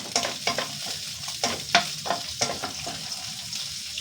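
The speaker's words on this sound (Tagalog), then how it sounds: "gisa na po tayo mga kasamo ng gisado" Garlic sautés in a pan for pancit canton, a close sizzle punctuated by several sharp scraping stirs at uneven intervals, with no talking.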